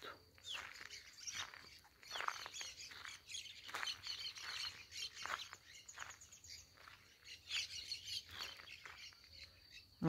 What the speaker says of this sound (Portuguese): E os pássaros alegres cantando.